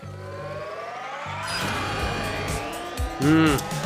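A kart drifting in LittleBigPlanet Karting on a garden track: a buzzing, rising engine tone with sliding tire squeal and swooping electronic effects, ending in a louder whooshing boost, with no speech.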